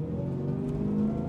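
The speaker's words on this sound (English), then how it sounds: "The engine is so muscular, it sounds so good" A Jaguar XKR X100 engine hums with a deep, steady tone and slight revving swell, close and continuous, with no voices.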